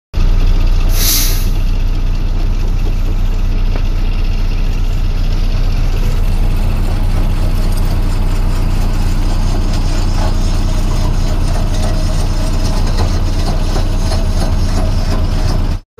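Heavy machinery at a construction site, with bulldozer and dump truck engines running continuously and loud throughout, plus clanking mechanical noise and a brief hiss of air near the start.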